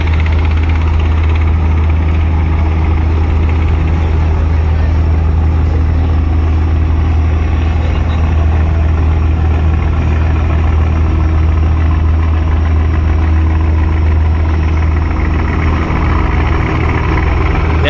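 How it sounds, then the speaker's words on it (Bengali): The Sundarban 12 passenger launch, on the Dhaka–Barisal river route, runs with a loud, steady low-pitched engine drone that never lets up, with constant water and hull rumble around it. "দেখেন কি গতি এই মুহূর্তে সুন্দরবন 12 লঞ্চের"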